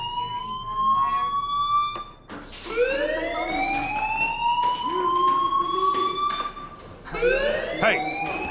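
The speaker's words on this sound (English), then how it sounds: "Hey, do you hear that fire alarm?" A fire alarm rings in the video game Life is Strange, a steady, loud electronic wail with rising sweeps that runs nearly the whole time, breaking off briefly twice.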